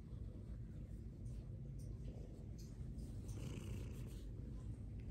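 A house cat purring up close at a steady low rumble, continuous throughout with soft rustling and no talk.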